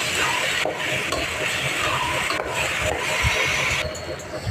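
Rice with chana and masoor dal is stirred in a pot for khichuri, a continuous scraping and shuffling over a soft sizzle, close and steady, with no one talking.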